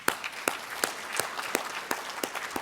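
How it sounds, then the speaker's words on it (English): Scattered applause at a community civic association's 25th anniversary event: a handful of distinct, sharp claps ring out at a slow, uneven pace, sounding close and fairly quiet. "Let's give her a round of applause."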